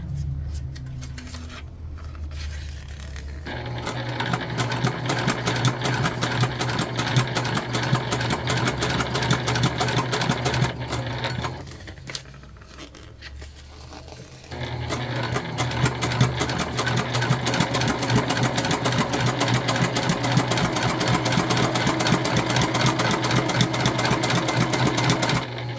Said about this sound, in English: We're top stitching 1/8 of an inch away from our center seam there.